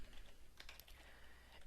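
Quiet, rapid typing on a computer keyboard, a short run of close soft key clicks at low level.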